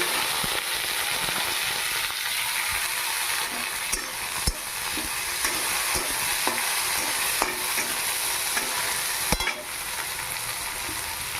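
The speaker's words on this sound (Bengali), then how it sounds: "পেঁয়াজ ভাজা হয়ে লাল লাল ভাজা ভাজা হয়ে এসেছে" Loud, continuous sizzling of browned onions and chopped tomato frying in a hot pan for a bottle gourd and prawn curry, with occasional stirring scrapes and clicks, no talking.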